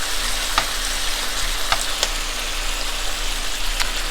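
Beef fries in a pan for beef and broccoli, a steady loud sizzle with faint scraping clicks scattered through, close and continuous.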